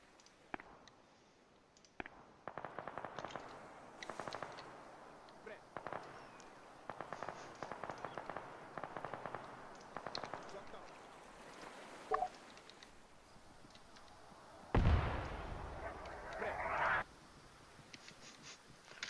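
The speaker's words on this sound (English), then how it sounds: "This is Bravo reporting enemy mortar fire incoming onto our position." Incoming enemy mortar fire in the military shooter Arma 3, a string of sharp cracks and scattered blasts spread across the scene, ending in a louder, heavier impact burst near the close.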